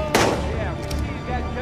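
A single sharp gunshot cracks out in the Days Gone video game, followed by a decaying rumble and some faint voices mixed underneath.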